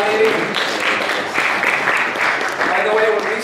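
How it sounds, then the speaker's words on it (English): An audience applauds the girls at a talk, with loud, dense clapping filling the room, close and continuous, and a few voices audible under it. "Round of applause for the girls."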